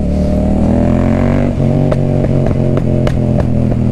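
Close, loud roar from a motorcycle running an Akrapovic carbon exhaust with the baffle taken out, holding a steady rumble before a series of sharp throttle blips punch through near the end.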